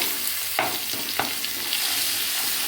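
Spice paste hits hot oil already crackling with mustard seeds and cumin, producing a loud, bright sizzle with a few sharp spattering pops in the first seconds before it settles into a dense, steady fry.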